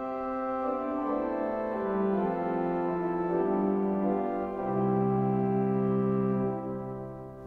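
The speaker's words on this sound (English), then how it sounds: "4-foot range, we have a 4-foot principal." A Kilgen pipe organ in St. John Nepomuk Church, St. Louis, sounds its 4-foot principal stop: sustained, smooth flute-like notes held and shifting in a slow line, steady and full in the room before fading.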